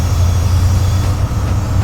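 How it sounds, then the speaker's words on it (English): A BR Class 70 PowerHaul diesel locomotive in the Train Simulator game hauling coal on the South Wales Coastal route, its electric traction motors giving a steady, loud low rumble and hum throughout with no talking. "you can hear the electric motor sound."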